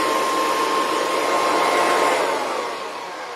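A failing Kirby Classic vacuum cleaner runs close by, a loud continuous roar with a steady high motor whine that eases off slightly near the end.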